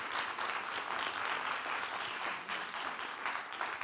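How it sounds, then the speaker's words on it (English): Dense, steady audience applause fills the hall after a university thesis competition, a continuous wash of many hands clapping at even loudness throughout with no voices standing out. "let's give them all a round of applause because they were awesome tonight"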